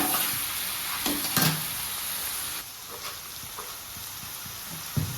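Mixed vegetables with bori (lentil dumplings) being stirred and fried in a pan, giving a steady close sizzle with scattered scraping knocks of a spoon against the pan.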